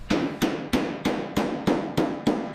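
A hammer beats bare car body metal during restoration of a wrecked 2025 Aston Martin Vanquish, eight sharp ringing strikes in a steady even rhythm, close and loud with no talk.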